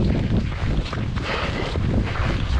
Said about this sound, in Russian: Единственное, говорю, вот ветер холодный,